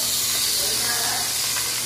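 Cooking oil heating in a pan over low fire, set for ampalaya with egg, gives a steady soft hiss throughout with a faint low hum beneath.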